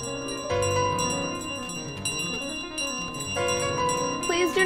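A bell rings in Untitled Goose Game: bright, sustained metallic tones struck several times over a few seconds, with overlapping ringing decays.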